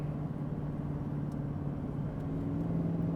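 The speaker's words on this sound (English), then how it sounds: "If I would touch the brakes right now, the exhaust brake actually would kick in and keep me from gaining any more speed" Low steady engine drone of a Chevy truck coasting downhill with its exhaust brake engaged, a constant deep hum and road rumble with no talk over it.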